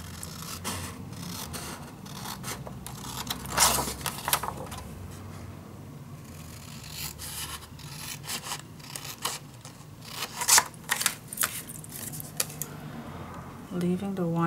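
Scissors snip out a paper picture for a vintage winter mini album, giving a few sharp crisp cuts and paper rustles close up amid quiet handling, with a voice talking in places.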